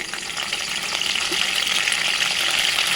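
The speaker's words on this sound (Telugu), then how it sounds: "ఇప్పుడు ఒక ప్యాన్ తీసుకొని అందులో 2 to 3 table spoons oil heat చేసుకొని అందులో కొంచెం కరివేపాకు," Curry leaves crackle and sizzle in hot oil in a pan for a vegetable rice dish, a steady broadband hiss running throughout at moderate level with small popping textures, close by.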